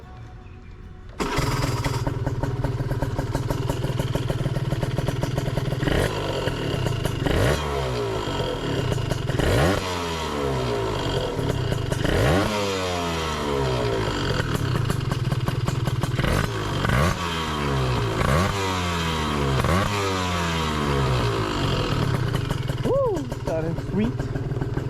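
Gilera Runner 180cc scooter with a Malossi exhaust and 28mm carburetor warm-starting, then revving and riding off, the two-stroke engine rising and falling in repeated loud revs close by.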